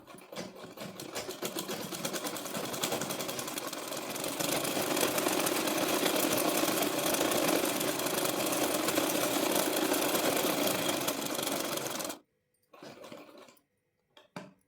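A sewing machine runs a straight seam on palazzo pants, a loud continuous rapid whirring that speeds up partway through and then stops abruptly, followed by brief quieter mechanical sounds.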